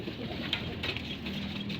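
Racing pigeons coo softly in a loft, low murmuring calls over a steady background hum, close and continuous.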